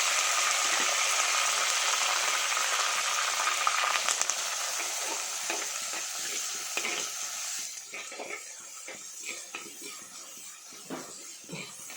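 Onion, tomato, garlic, green chilli and curry leaves sizzle steadily in hot oil for a Sankara fish curry, with a dense frying hiss that softens partway through into scattered stirring scrapes and crackles.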